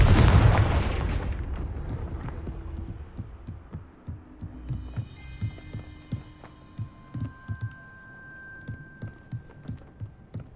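Confringo blasting spell cast in Hogwarts Legacy on PS4 near a gatehouse: a loud, close explosion bursts at the start and rumbles away, followed by a steady run of heavy thudding footsteps.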